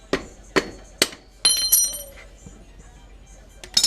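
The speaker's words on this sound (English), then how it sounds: "I'm gonna use the end of my screwdriver to hit the other side of this" Four sharp metallic taps ring out as the end of a screwdriver strikes a long axle nut on a motorcycle during a chain and sprocket change, followed by faint clinks and handling noise.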